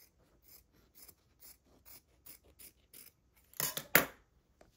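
Scissors snip through excess fabric on a 1937 Little Golden Book being turned into a junk journal: a series of soft, regular clicks, then two louder, crisp cuts near the end.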